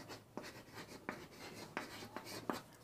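Writing on a board during a maths lesson on determinants, quiet scratchy strokes in short separate bursts, roughly five marks at irregular intervals in a hushed room.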